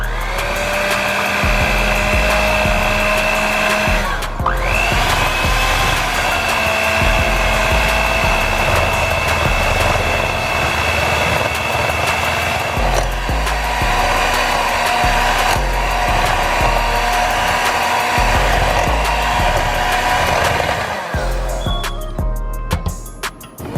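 Electric mixer whirring steadily as it beats cream and vanilla into a cake glaze, loud and continuous with a brief dip near the start and a stop at the end.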